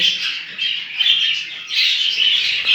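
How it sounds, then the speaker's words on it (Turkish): Pet canaries in a home aviary calling, a run of bright chirping phrases in bursts separated by short gaps, fairly close and clear. "Ve arkadaşlar burada kanarlarımız var."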